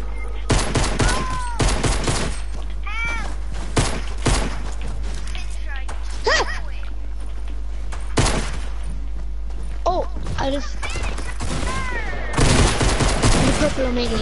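Rapid bursts of video-game gunfire from guns and a pistol crack out repeatedly in clusters, loud and close, with excited voices talking and shouting between and over the shots.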